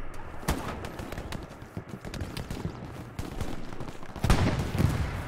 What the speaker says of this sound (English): That attack, Gary's already getting shot at